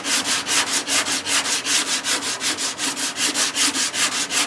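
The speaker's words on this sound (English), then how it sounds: "Just keep sanding. Make sure you're doing that cross motion." Body filler on car bodywork is sanded by hand in steady back-and-forth strokes, a close, even rasping rhythm of about four strokes a second with no talking.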